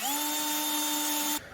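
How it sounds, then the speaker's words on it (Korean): A power drill spins up and bores a hole through the housing of a KEMIN camping car fridge, a close, steady high whine lasting about a second before cutting off. "따로 구멍을 뚫어서 이쪽으로 이렇게 가야 될 것 같아요"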